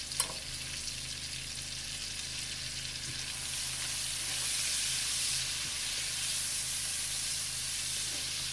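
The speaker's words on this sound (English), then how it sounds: "Just going to saute these a little bit." Vegetables sauteing in a pan give a steady close sizzle and hiss that swells louder partway through and stays even, with a faint stir or two and no voices.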